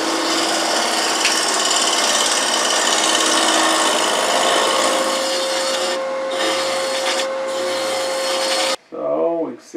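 A wooden three-corner bowl spins on a lathe while a half-inch bowl gouge slices into it, giving a steady close rasping hiss with a faint motor whine, briefly dipping twice and cutting off near the end as the tool lifts away.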